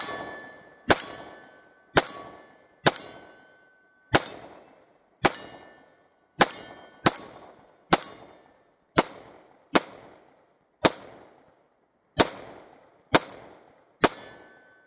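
Taurus GX4 pistol fired at a target about 20 yards away, with thirteen sharp, loud, ringing shots at irregular intervals of roughly one second, each with a short decaying tail, and no talking.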